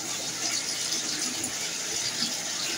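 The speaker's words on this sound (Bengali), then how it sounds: "আলু ধুয়ে নিলাম," Potatoes washed under running tap water in a home kitchen in Bangladesh, a steady soft rush and splash of water, moderately quiet and continuous, with no talking.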